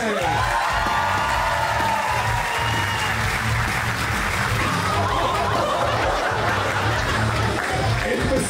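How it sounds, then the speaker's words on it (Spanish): A live audience at an anniversary roast comedy show applauds its guests with steady, dense clapping that carries through the whole stretch, mixed with scattered chuckles and light cheering. "Denle un fuerte aplauso, por favor"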